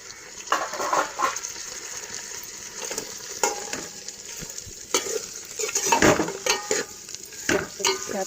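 Chicken legs sizzle and fry in a pan while a utensil stirs and scrapes through them, with uneven clattering strokes over a steady close sizzle and no talk.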